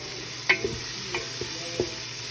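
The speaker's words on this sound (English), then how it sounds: "So we are going to put in these onions and this garlic, and we're gonna slowly just try to simmer them and soften them." Onions and garlic cook gently in extra virgin olive oil in a pot, a low sizzle under a handful of sharp stirring clinks and scrapes from a utensil.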